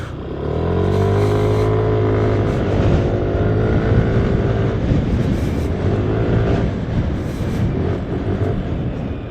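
A Yamaha Lexi 155 scooter engine revs and pulls under way, its rising and falling tones clear and close, with wind noise over a steady drone and no speech.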